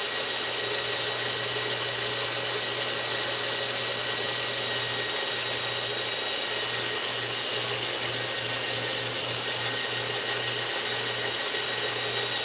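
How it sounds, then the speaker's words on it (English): A cordless drill runs continuously under a constant background hum, its motor tone pulsing steadily as the trigger is held. "I just got my right hand on my drill, pulling the trigger."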